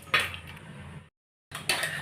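Butter being scooped from a steel pot while making homemade ghee, producing soft scraping and clinking of a utensil against metal in two short bursts separated by a brief silence.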